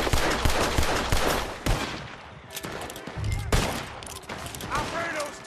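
Rapid, loud gunfire from a Red Dead Online gang shootout on PS4, with dense overlapping shots and cracks throughout and occasional shouting voices.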